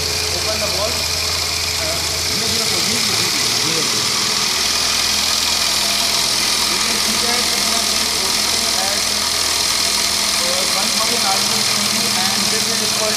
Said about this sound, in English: And we can see that our engine is now rotating.